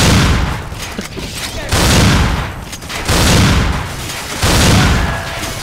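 Gunfire in Call of Duty, Mission 4 at Nazran Foundry played on Xbox Series S: loud, heavy volleys of shots arriving in repeated bursts roughly a second apart, booming and close.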